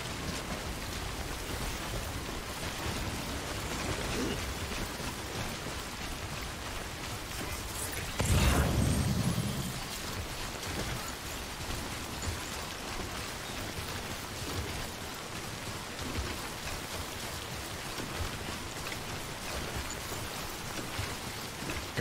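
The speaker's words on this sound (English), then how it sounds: "Gosh, I wish this rain would go away." Steady rain pours throughout in Death Stranding Director's Cut, with a heavy rumbling crash about midway; no one speaks.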